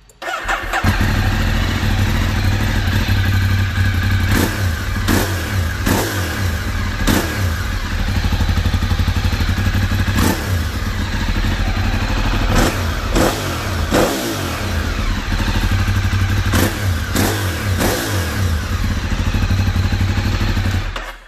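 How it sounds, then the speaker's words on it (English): A loud 2008 Ducati 848 sport motorcycle engine with stock exhaust idles warm with a rough burble and is repeatedly revved, the pitch rising and falling in sharp bursts close by. "It's all warmed up now. Let's go ahead and give it some revs."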